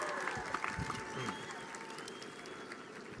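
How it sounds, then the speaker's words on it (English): Commencement audience for the class of 2017 applauding: a fairly faint, steady patter of many hands clapping in a large hall, with a voice briefly audible near the start. "Give yourselves a big round of applause."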